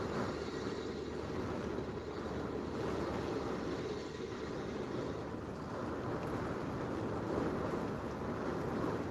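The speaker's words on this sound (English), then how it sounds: "It's definitely very windy out there right now, that's for sure." Strong hurricane wind roars steadily against the microphone as a constant, low rumbling buffet with no pauses.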